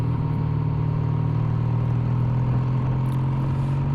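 Triumph Bonneville T140 motorcycle being ridden on UK roads, a loud, steady engine drone with a strong low hum and rushing wind noise throughout, no talk.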